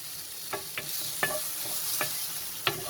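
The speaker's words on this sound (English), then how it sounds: "The tomatoes are roasted very well." Tomatoes roasting in a pan on low heat give a steady close sizzle, with five sharp scraping clicks of a spoon stirring them spaced through the clip.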